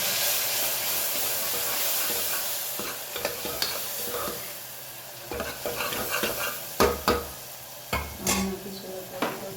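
Spices sizzle in hot oil under a steady hiss, and irregular scraping knocks from stirring grow more frequent toward the end.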